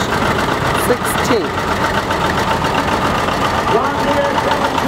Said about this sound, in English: This is the tractor parade on March